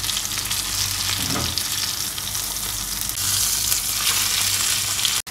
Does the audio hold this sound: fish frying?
yes